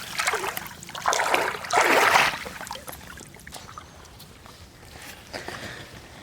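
Water splashing and trickling as mud is rinsed off a freshly caught fish outdoors, a few close bursts of pouring and splashing in the first couple of seconds, then quieter dribbles.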